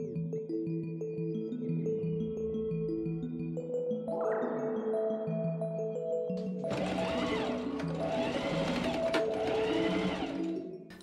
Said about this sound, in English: I machine understitch the facing along the inside.